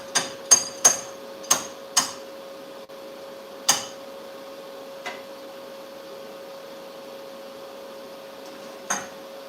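A hammer taps on a tractor part, about six sharp metallic knocks in quick succession followed by a few sparser, fainter taps against a steady background hum, with no talking.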